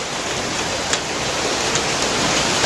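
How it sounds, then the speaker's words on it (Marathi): Heavy rain pours down in a dense, steady hiss that holds unbroken and loud throughout, with a few sharper drops standing out and no voices. "खूप जोरात पाऊस येतोय"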